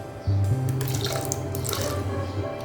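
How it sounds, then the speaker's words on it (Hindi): Milk being poured into almond paste in a blender jar for an almond milkshake, a steady close liquid stream with a faint low hum running throughout, no talking. "मैंने आधा दूध डाला है।"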